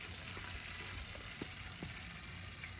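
Catfish fries on a rocket stove with a steady low sizzle and soft crackle, faint scattered pops over a continuous hiss, quiet and without talk.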